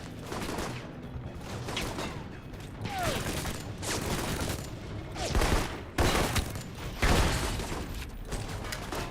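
Automated turret fire in the spy game Alpha Protocol sounds as loud, rapid bursts with sharp impacts and mechanical clatter, fairly close, with no voices over it.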